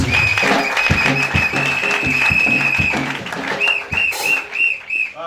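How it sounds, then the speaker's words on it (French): A church congregation breaks into applause, clapping densely for several seconds amid a whistle and scattered cheers before the clapping thins out. "Est-ce qu'on peut acclamer d'abord pour lui?"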